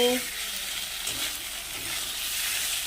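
Cumin, chili and other ground spices fry in a pan for a simple bata fish curry with radish, making a soft, steady sizzle with light scraping from stirring, fairly faint and close.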